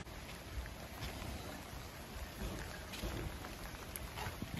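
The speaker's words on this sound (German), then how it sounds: "Ihr seht, der Regen." Rain falls steadily outside a workshop, a soft dense hiss with scattered drops that keeps a constant level throughout.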